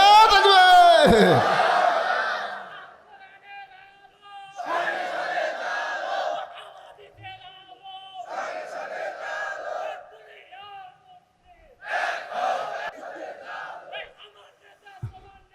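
Crowd at a Bengali waz gathering shouting back in unison after a takbir call, several loud rhythmic bursts of massed voices separated by short pauses.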